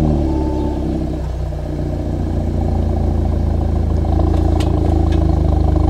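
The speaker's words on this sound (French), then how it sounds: "Allez, je vous propose d'écouter la belle mélodie de la ligne d'échappement." An Audi S3 facelift idles and rumbles through its four real tailpipes, a deep, loud, steady exhaust note close by, with a brief light clatter near the end.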